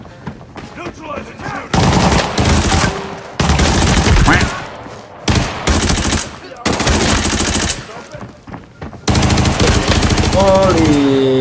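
Rapid automatic bursts from an M4 rifle in a shooter video game ring out loud and close in several long sustained volleys separated by brief pauses.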